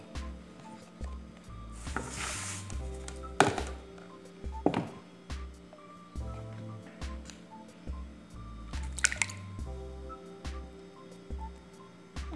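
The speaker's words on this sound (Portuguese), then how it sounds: "Vou bater os ovos e o açúcar nessa Tupperware" Eggs and sugar are beaten by hand in a Tupperware container, giving quiet, irregular knocks, sloshes and scrapes close by over a low background hum.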